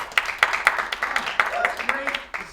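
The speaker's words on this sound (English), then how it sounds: "Give yourself a round of applause." Studio audience at a live comedy show clapping and applauding in a steady, dense patter of claps lasting a couple of seconds, with voices calling out over the applause.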